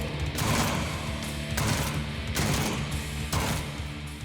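Sustained automatic rifle fire in the Jupiter Hell video game, dense rolling bursts with periodic peaks about once a second, loud and continuous without speech.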